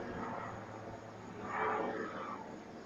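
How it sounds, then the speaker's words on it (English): Large white helicopter with a gray underside passing overhead, its rotor and engine noise a faint, steady drone that swells briefly midway through. "kind of helicopter is that?"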